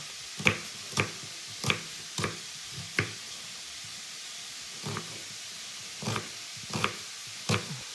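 A knife cuts peeled eggplant for Ukrainian-style chanakhi, about ten distinct chops landing singly at an uneven pace, each a crisp close thud on a board with quiet pauses between.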